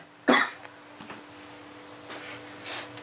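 A single sharp cough from a scratchy throat bursts out close and loud, followed by fainter throaty rasps and breaths over a quiet room hum.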